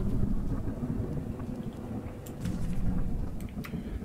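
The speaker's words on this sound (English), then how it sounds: "Really don't like the thunder." Thunder rumbles in the train horror video game Choo Choo Charles, a deep, continuous low roll with wind-like noise, swelling slightly with faint sharp crackles near the end.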